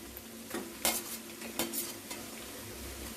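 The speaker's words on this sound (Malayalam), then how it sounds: "എന്നിട്ട് നന്നായിട്ടൊന്ന് ഇളക്കി പിടിപ്പിക്കണം." Chicken being stirred with salt and ginger-garlic paste in hot oil in a pan for chicken karahi, with a steady soft sizzle broken by a few sharp scraping clinks of the spoon against the pan, close and without speech.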